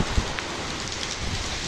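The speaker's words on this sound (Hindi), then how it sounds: "माशाल्लाह काफ़ी तेज़ बारिश है" Heavy rain pours down steadily, a dense close hiss with a few louder drops and splashes near the start, and no voices.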